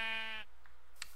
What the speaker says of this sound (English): I have to slay a few sheep for that